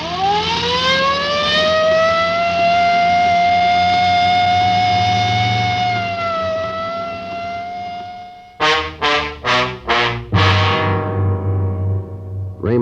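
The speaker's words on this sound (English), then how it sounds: "I better use the light and siren, Frank." A police car siren rises and holds a loud, steady wail, then breaks into a series of sharp, rapid yelping bursts, heard alone with no talk, inside a radio crime drama.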